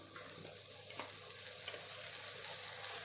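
Chopped carrots frying in ghee for paneer pulao make a steady, soft sizzle with faint clicks of stirring throughout, continuous and fairly quiet with no talking.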